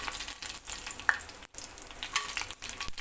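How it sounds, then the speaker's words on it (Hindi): Crushed coriander seeds crackle in hot oil for a dry paneer dish, a dense close sizzle with small pops and brief scraping, steady and moderately loud. "हल्का सा इसको क्रैकल होने देना है इस तरीके से"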